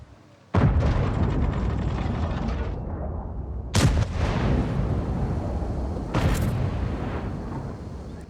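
Tank cannon shots from a BZ55 in the video game World of Tanks, three loud booming blasts spread several seconds apart, each with a long rumbling tail over continuous battle noise.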